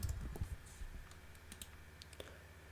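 Keys clicking on a computer keyboard while typing into a Scratch project: a quick burst of taps, then scattered single keystrokes, heard close but faint with no talking.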